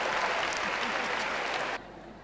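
A studio audience at an Ivorian television comedy show claps loudly and continuously. The dense applause cuts off abruptly near the end, leaving quieter room noise.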